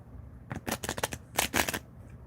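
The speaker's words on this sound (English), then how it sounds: "you can't let a drunk guy shuffle the cards." Playing cards riffle-shuffled up close, two quick bursts of crisp fluttering snaps about a second apart, with no talking over them.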